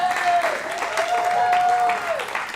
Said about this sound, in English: Let's give Carrie a round of applause for tonight